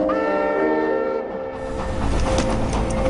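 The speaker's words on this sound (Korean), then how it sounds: "방금 도착한 저 열차는 먼 남쪽 푸른 바닷가에서 온 완행." A slow local train pulls into a station, a sustained tonal horn or whistle sounding first, then fading into rumbling, rattling wheel noise as the cars roll in close by.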